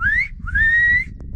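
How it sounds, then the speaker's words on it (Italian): People whistle to call alpacas and llamas at an Andean site near the Equator: two rising, sustained whistles, the second longer and held steady, loud and close over a low rumble of wind or ambient noise. "Stiamo fischiando per far arrivare gli animali, gli alpaca e lama."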